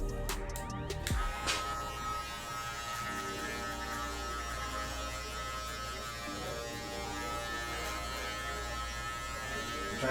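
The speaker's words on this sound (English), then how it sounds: "Trying to feed the clipper a bunch of different ways." An electric hair clipper buzzes with a steady, close mechanical hum as it cuts hair, after a brief clatter of handling at the start, and the drone then holds evenly throughout.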